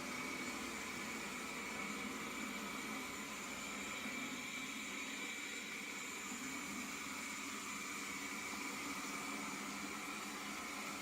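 A Wyze robot vacuum runs steadily on carpet, giving a continuous broadband whir and hiss with a faint tonal hum, unchanging in level throughout with no talk over it.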